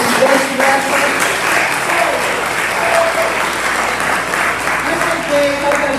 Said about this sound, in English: I got a big cheer.